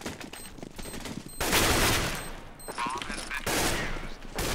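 Gunfire from the video game CS:GO comes in several bursts of rapid shots, loud and dense, with quieter gaps and faint clicks between them.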